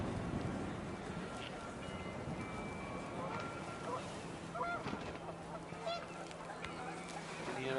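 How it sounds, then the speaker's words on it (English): Panicked geese honking in the video game What Remains of Edith Finch, with wind picking up: a dense, continuous flock of overlapping honks and squawks over a rushing wind bed, under a narrating voice. "panicked geese appeared and quickly went"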